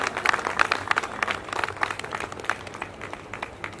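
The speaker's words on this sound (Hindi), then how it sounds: "जोरदार तालियों से हम इन सभी महानुभावों का स्वागत करें" Applause from a crowd at a Diwali gathering of a community service society, a steady patter of many hands clapping at moderate volume throughout, without speech over it.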